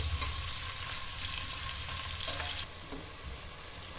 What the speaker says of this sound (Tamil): இந்த பக்கோடாக்கு பண்ணுற அளவுக்கு நல்லா ஃப்ரை பண்ணி எடுத்துக்கோங்க